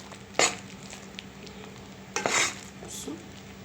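Ghee and flour sizzling softly in a pan as a spoon stirs and scrapes the roux for béchamel, with a few brief, sharp scraping strokes over a faint, steady hiss.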